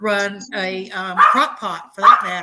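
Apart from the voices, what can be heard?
dogs barking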